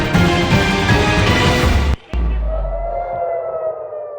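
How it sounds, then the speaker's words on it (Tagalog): Air raid sirens wail loudly and steadily across Tel Aviv, Israel, during Iranian missile fire. The sound drops out for a moment, then a sustained wavering tone carries on alone. "Muling umalingaw-ngaw ang mga sirena sa Tel Aviv,"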